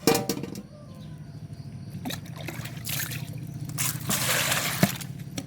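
Small Mekong river fish rinsed by hand in water: uneven trickles, splashes and sloshing come in bursts, with a few sharp knocks of a bowl or container, fairly close and moderately quiet.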